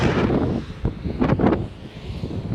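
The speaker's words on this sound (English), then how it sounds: "I cannot begin to describe how incredibly windy it is." Strong wind buffets the microphone in heavy, rumbling gusts at a Tesla Semi truck charging station in Ontario, California, with no talking.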